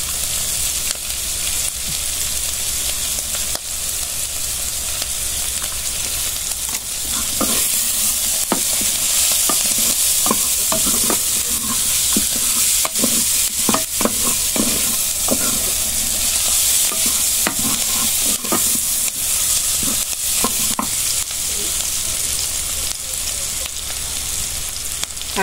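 Onion and garlic fry in a pan with a constant loud hiss and sizzle, broken by soft utensil scrapes and taps while stirring, heard up close throughout with no talking.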